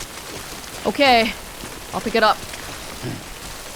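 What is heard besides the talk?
rain in Death Stranding video game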